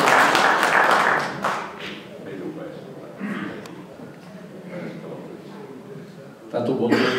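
Applause from an audience at a conference on turning waste into resources, a loud burst of clapping at the start that fades quickly, then a room murmur with voices talking and a brief swell of noise near the end.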